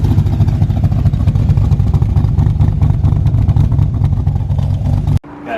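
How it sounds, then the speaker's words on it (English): An AC Cobra with a straight-pipe exhaust revs hard, a loud, continuous rumbling roar with a rapid crackling pulse that holds steady for about five seconds before cutting off abruptly. "Got the exhaust sound, is so good."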